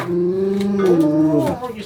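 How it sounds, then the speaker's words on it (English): A dog lets out a drawn-out, groaning, moan-like vocalization that rises and bends in pitch, close and fairly loud, lasting under two seconds. "Oh, you sound like a Chewbacca"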